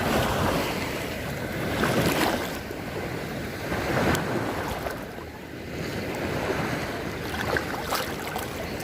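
Strong sea waves break at Sealine Beach, Mesaieed, rising and falling in loud surges every couple of seconds, with wind buffeting the microphone throughout.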